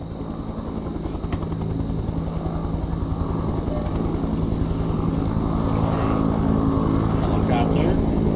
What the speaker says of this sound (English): Helicopter.